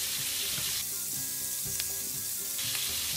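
Spinach sizzles and crackles steadily in a hot seafood Florentine sauce, with stirring scrapes and occasional soft clinks of a utensil against the pan, close and continuous with no talking.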